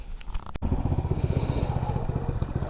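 A minibike fitted with new suspension being ridden, its small engine giving a close, loud, steady putter with rapid rhythmic pulses after a sharp click near the start.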